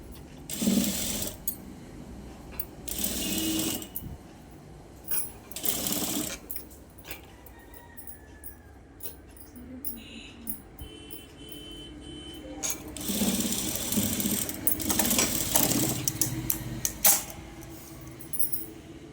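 A sewing machine stitches a blouse neckline in several rapid mechanical bursts, whirring and clattering close by, separated by short quiet pauses, with a longer run of stitching near the end.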